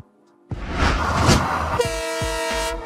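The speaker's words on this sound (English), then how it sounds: "Double-decker train." A double-decker train rumbles past close by, its loud rushing roar joined partway through by a sustained, tonal horn blast that carries to the end.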